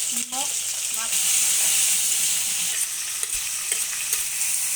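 Onions and tomatoes frying in a pan with a little salt, stirred with a utensil: a steady close sizzle with soft scraping strokes and a few light knocks, plus a brief voice near the start.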